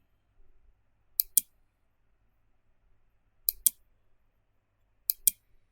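Three crisp double-clicks from a computer mouse, spaced a couple of seconds apart in a near-silent room, sound close and quick.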